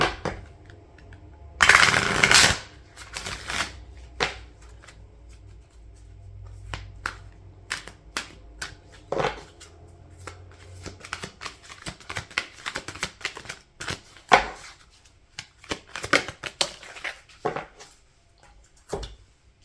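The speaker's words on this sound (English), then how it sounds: "So I'm going to take a oracle card here." Oracle cards being shuffled and drawn produce sharp, irregular slaps and riffling bursts, louder near the start. Lighter taps and flicks follow throughout, close and alone without speech.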